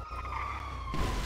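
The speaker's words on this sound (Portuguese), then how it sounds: "Tô ouvindo a sirene." A police siren in Grand Theft Auto V wails steadily at moderate distance, its pitch holding level before a burst of louder broadband noise near the end.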